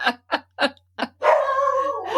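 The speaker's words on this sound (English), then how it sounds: "Now she's barking." Four short, sharp barks in a quick row, close by, followed by a longer drawn-out whining howl.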